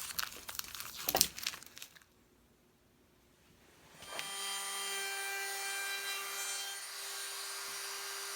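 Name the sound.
sanding wood step stool parts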